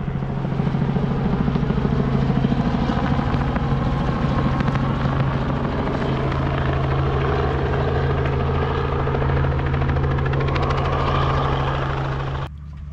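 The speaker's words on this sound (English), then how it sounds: "you can go in a helicopter ride and go check it out. So I can hear it coming back now." A helicopter's heavy rotor thump and engine whine drone loudly and steadily overhead near Cobbold Gorge, Australia, holding close for a long stretch before cutting off abruptly.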